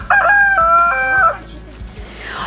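Escaped rooster loose from the chicken coop, crowing one loud, close, drawn-out cock-a-doodle-doo, followed by quieter rustling and low background noise.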